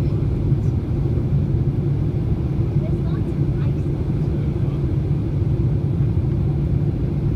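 A Boeing 767-300 airliner lands at O'Hare, heard as a loud, steady, low roar of jet engines that holds unchanged the whole way through.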